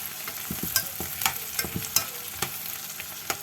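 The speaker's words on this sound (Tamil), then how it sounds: "இந்த வெங்காயம் இவ்வளவு வதங்கினா போதும்." Onions sauté in a pan, a steady soft sizzle under repeated scraping stirs of a spoon, close and moderately loud, with no voices.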